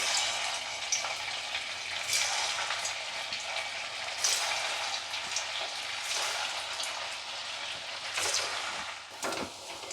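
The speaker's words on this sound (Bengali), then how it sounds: "তেলটা গরম হয়ে গেছে, আঁচটাকে মিডিয়াম ফ্লেমে রেখে আমি এগুলো এখন ছেড়ে দেবো" Garlic bread balls fry in hot oil over a medium flame, giving a continuous crackling sizzle with bursts of sharper spitting, steady from start to finish with no talking.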